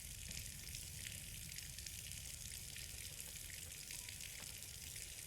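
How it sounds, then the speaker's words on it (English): Water flooding a basement in the horror game Scarlet Hollow, a steady hissing, trickling rush that continues evenly throughout at low volume, with no talk over it. "Okay, the basement is flooding."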